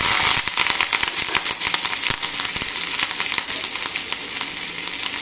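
Urad dal, green chili and curry leaves sizzle and crackle in hot sesame oil, a loud, continuous frying hiss dotted with sharp pops and spatters, with no talking.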